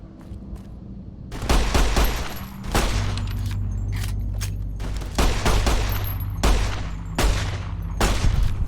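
Repeated heavy shots from Joshua Graham's pistol in Fallout: New Vegas, fired in loud bursts with short gaps and a lingering rumble between them, close and clear with no voices.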